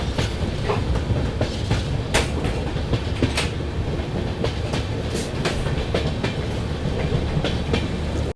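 The Agartala Tejas Rajdhani Express runs along the track with a steady rolling rumble, heard from inside. Sharp wheel clacks and clatters recur irregularly over the continuous loud noise, and no one speaks.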